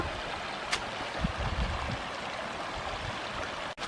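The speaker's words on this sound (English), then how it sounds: "Well, I found a little side stream." A small side stream flowing through Bankhead National Forest in Alabama, a steady soft rushing of water with a faint click near the start and a brief dropout near the end.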